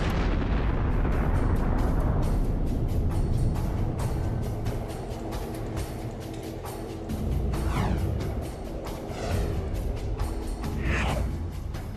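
A huge rumbling explosion effect depicting an evaporating black hole, loud and sustained with deep roaring blasts and crackling bursts rolling on throughout, with no voices.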